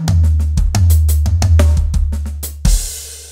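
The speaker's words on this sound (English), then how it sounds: "It's called the four stick cross," Drum fill called the four stick cross, a rapid run of sharp stick hits across drums and toms in quick, uneven groupings, loud and close, ending on a crashing cymbal that rings out.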